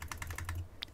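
Rapid butterfly clicking on a gaming mouse, a quick burst of sharp close clicks in an uneven rhythm with a final louder click, heard alone against a faint low hum.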